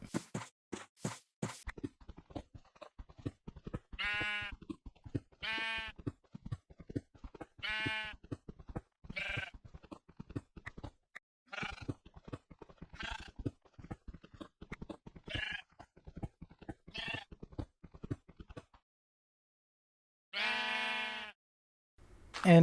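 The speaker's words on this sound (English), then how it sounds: "After Jonas left, I decided to collect a couple of sheep." Sheep in a video game bleat repeatedly in short, spaced calls with soft stepping sounds between them, clean and evenly loud throughout.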